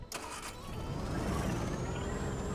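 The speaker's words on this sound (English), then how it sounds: "Yep, you can hear him revving" An AI race car engine revs in LittleBigPlanet 3, a steady mid-pitched engine drone with a slowly rising tone, near and moderately loud, with a few clicks at the start and no talking.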